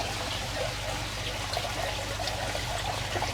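Coconut water pours out of a coconut in a steady, continuous trickling stream, fairly faint and with no talking.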